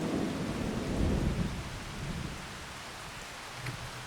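Rain and thunder in a farming video game, a low rumble of thunder rolling in at the start, then fading under a steady hiss of rainfall.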